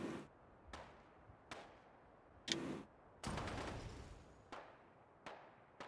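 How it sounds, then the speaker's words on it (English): Sharp, distant gunshots in the video game Fallout London crack at irregular intervals, single shots and one short burst, each ringing briefly against a quiet background. "I hear gunshots, but I don't see where they're coming from."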